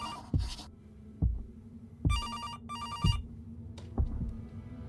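An electronic telephone in the video game September 7th rings in repeated bursts of a bright trilling tone, alongside regular deep thumping beats like a heartbeat.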